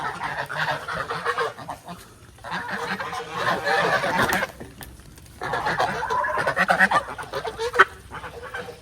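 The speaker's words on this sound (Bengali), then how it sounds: "এখানে হচ্ছে আটটা পিকিং স্টার আর দুইটা হচ্ছে দেশি হাঁস" Eight Pekin ducks and two local ducks call on a small farm. Loud, nasal honking quacks overlap in bursts, break for about a second, then return.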